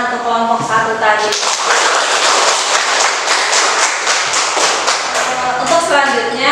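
Classroom audience applauding a presenting student group, a dense burst of clapping lasting several seconds, with a voice speaking before and after.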